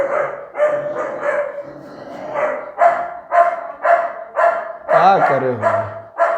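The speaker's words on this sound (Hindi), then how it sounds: "कुत्ता तो चिल्ला रहा है, का हम कर, बड़ा कुकुर से परेशान है।" A dog barks repeatedly outdoors, sharp bursts in an irregular rhythm at moderate distance, ending with a whimpering yelp, while someone talks indoors over it.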